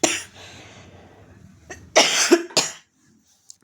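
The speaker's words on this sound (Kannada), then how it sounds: "ಕೆಮ್ಮು ಸ್ಟಾರ್ಟ್ ಆಗಿದೆ ಫ್ರೆಂಡ್ಸ್, ಹುಷಾರಿಲ್ಲ ಸ್ವಲ್ಪ" A person coughs nearby while cooking, a cluster of two or three sharp coughs after a breathy exhale, then quiet.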